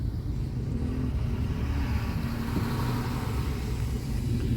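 A car accelerates while moving from first to second gear in morning city traffic, a steady low engine drone inside the cabin with no distinct rev peak, continuous and fairly loud throughout.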